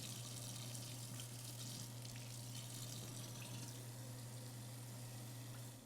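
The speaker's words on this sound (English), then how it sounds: "Fill the wash basin or whirlpool foot bath 2/3 full with water." Tap water runs steadily into a wash basin or whirlpool foot bath being filled for foot care, a continuous hissing splash heard close up and alone, with a constant low hum underneath.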